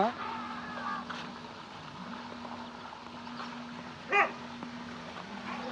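A dog barks and yips in an outdoor village setting in Punjab, with one sharp bark standing out midway over low background noise and a steady hum.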